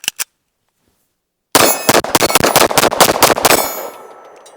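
An Archon Type B Gen 2 pistol fires Fiocchi Range Dynamics ammunition at a shooting range: after two faint clicks and a pause, a rapid string of about a dozen loud, sharp shots rings out with a ringing, echoing tail.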